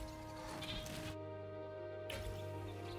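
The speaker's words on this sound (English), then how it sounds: "There's the goat." Goat bleats in the Jurassic World Evolution 3 video game, a steady bleating cry rising over continuous game music and ambience, with a brief drop in the high range midway.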